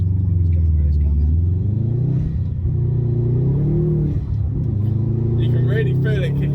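A 360 bhp Subaru WRX STI accelerates, its engine and intake building in a loud, continuous rumbling whoosh that rises and dips in pitch, heard from inside the car with people talking over it.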